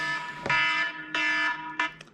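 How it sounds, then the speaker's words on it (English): A phone alarm reminder to leave for class, three loud electronic tone bursts in quick succession with a short fourth blip, close and clear with no voices. "That's my alarm to start getting to class."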